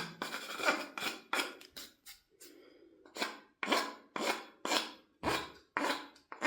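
A hand file scrapes back and forth over metal edges during an AR-15 conversion, a rhythmic series of close, rasping strokes with a brief pause partway through.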